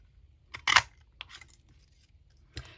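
Scissors cutting cardstock, a few crisp separate snips and clicks, close and fairly quiet, with silence between the cuts.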